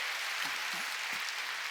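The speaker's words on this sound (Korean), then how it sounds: "박수 치려면 세게 좀 치라고, 더 세게." Sunday worship congregation at a Korean church clapping, a faint, continuous spread of applause heard from a distance, with a few low voice-like murmurs underneath.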